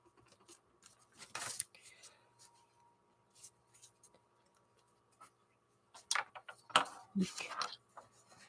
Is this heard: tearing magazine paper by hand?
yes